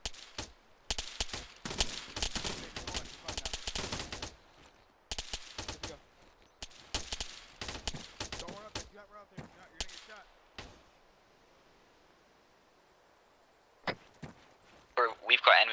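Enemy gunfire in a large-scale team-versus-team military shooter, sharp repeated shots in bursts separated by quieter stretches, with radio-style voices talking over the fighting.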